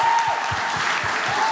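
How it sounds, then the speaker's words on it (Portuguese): A church congregation applauds steadily at a leaders' gathering, a dense wash of clapping filling the whole moment without pause, with a faint murmur of voices underneath. "Vamos aplaudir esses irmãos?"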